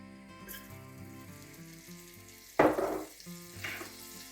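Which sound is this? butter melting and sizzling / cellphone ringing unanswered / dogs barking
butter melting and sizzling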